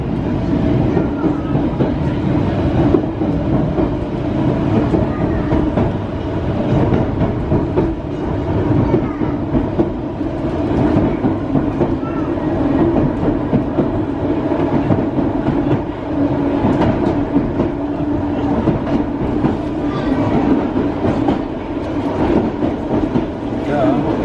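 A Class 484 train on the Island Line runs through a small tunnel, heard from inside as a steady, loud rumble with faint wheel clatter. Muffled voices sit under the noise.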